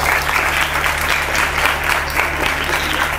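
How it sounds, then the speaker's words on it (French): A group of children claps loudly and continuously in a dense, sustained round of applause during a French children's television programme. "On acclame très très très très fort."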